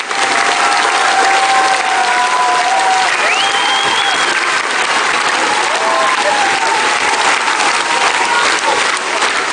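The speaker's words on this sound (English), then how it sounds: "let's give ourselves a great round of applause." A large audience gives a long, loud round of applause, dense and even for about ten seconds, with a few voices and whistles rising faintly above the clapping.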